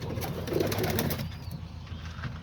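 All-white male homing pigeons coo in a loft, a soft low throaty call repeated a few times close by. A faint rustle sits under the cooing.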